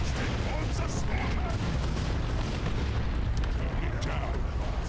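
Artillery fire in a Warhammer 40K Dawn of War 2 Retribution battle: a dense, continuous roar of booming blasts and rumbling explosions with no pauses, and voices talking underneath.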